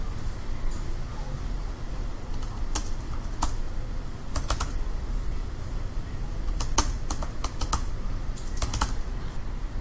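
Terminal commands typed on a computer keyboard: close, crisp key clicks in irregular bursts and quick clusters over a steady low hum of room or fan noise.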